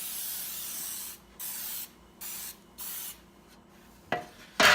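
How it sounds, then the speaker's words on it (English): Several short hissing bursts from a can of Baker's Joy baking spray onto a pan, evenly spaced, close by, followed by a couple of brief louder sprays at the end. "Give this pan just a little spray here."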